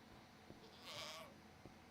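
A Minecraft goat gives a single faint, short bleat in the middle of quiet game ambience, with soft low thumps before and after.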